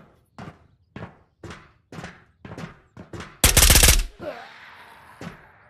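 Gunfire in the VR shooter Ghosts of Tabor, with a series of single sharp shots at a regular pace, then a short, loud, dense burst of rapid fire followed by a fading echo and one last shot.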